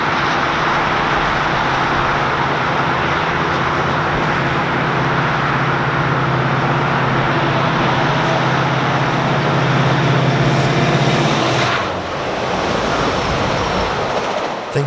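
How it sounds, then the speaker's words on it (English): A pair of EMD F59 diesel locomotives race by on the line into Toronto with a loud, close, steady roar and droning engine tones. The noise drops away abruptly near the end. "as a duo of F59s race the replacement into Toronto"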